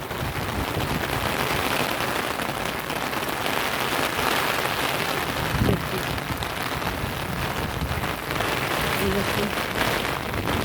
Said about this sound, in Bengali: এখনো বৃষ্টি সমানই হয়ে যাচ্ছে